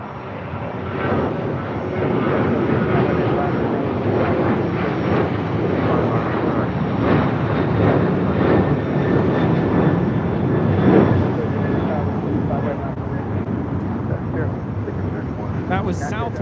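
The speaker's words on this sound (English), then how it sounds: "That was Southwest 1593 taking off to Chicago Midway on a 737-800." Southwest Boeing 737-800 taking off from LAX, a loud sustained jet engine roar holding steady for over fifteen seconds with wind rumble, heard close and continuous.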